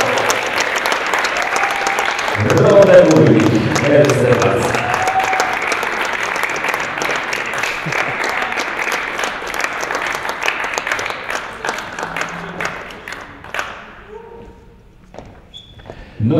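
Crowd applause at a tchoukball Polish Cup awards ceremony for a junior team, sustained loud clapping that thins out toward the end as an announcer speaks over it.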